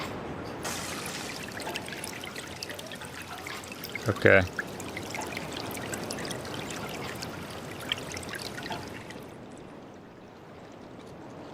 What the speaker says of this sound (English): It works. The water's flowing now.